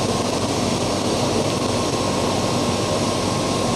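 A flushing water pump on a Mitsubishi FA20 wire EDM machine runs at steady volume, a constant broadband rush and hum that holds unchanged throughout, with no voices.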